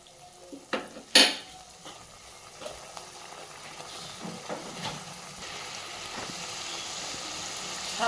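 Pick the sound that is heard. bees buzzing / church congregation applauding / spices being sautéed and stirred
spices being sautéed and stirred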